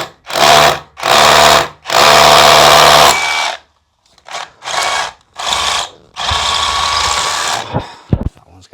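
A power drill bores into a house wall for screw plugs in a series of loud, close bursts: three long runs, a pause, then several shorter whirring pushes, a longer run and a few clicks at the end.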